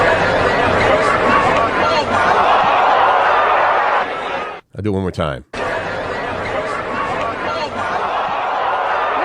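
A baseball stadium crowd roars in a loud, sustained wave, briefly cut by a short gap of near silence before the broad cheering and chatter resume; a voice speaks briefly over it.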